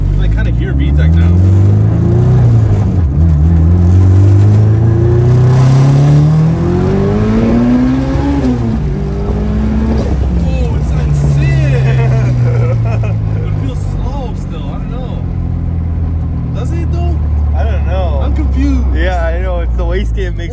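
Loud engine of a K-swapped Nissan S14, rising and falling through revs with a deep rumble that climbs in pitch and settles back, running steadily under excited voices talking over it.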